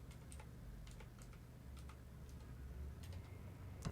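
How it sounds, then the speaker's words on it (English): Someone types one-handed on a computer keyboard, giving quiet, sparse, irregular key clicks close by over a low steady background hum. "Typing one-handed off screen is always fun."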